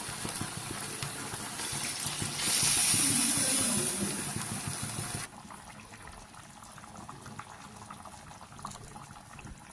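Ground-coconut paste water pours into a prawn and snake gourd theeyal curry with a brief gushing hiss, then a steady low bubbling simmer continues quietly, no voices.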